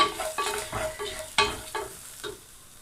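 Green and dry chilies go into a pan with a spoonful of coconut oil and cumin for a Malabar spinach curry. A soft sizzle runs under several sharp stirring clinks and scrapes.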